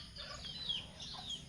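Labuyo wild junglefowl, escaped from the forest and mixing with village chickens, give faint scattered clucks and calls outdoors, with no talking over them.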